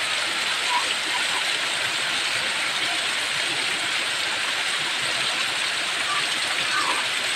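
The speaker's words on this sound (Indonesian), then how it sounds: "Ada air terjun nih." Waterfall roaring steadily outdoors, a constant broadband rush of falling water with no breaks, fairly loud and continuous throughout.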